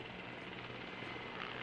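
Helicopter passing overhead during a presidential inauguration parade in Uganda, a steady broadband rotor and engine roar that holds moderately loud and continuous throughout, with no voices over it.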